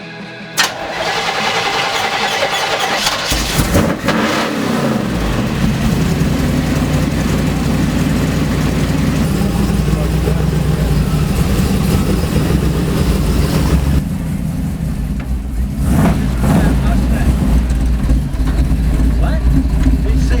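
A 1937 Chevy car engine cranks, catches and settles into a loud, steady, low rumbling idle close by, with people talking over it.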